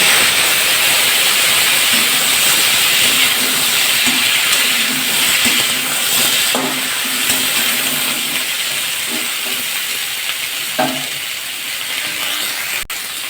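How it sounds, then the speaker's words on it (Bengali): Chopped vegetables for a light rohu fish curry fry together in hot oil, making a loud, continuous sizzling hiss that runs the whole time, broken by a few faint clinks. "সবজিগুলো সব ভাজা করে নেবো একসাথে দিয়ে দিলাম"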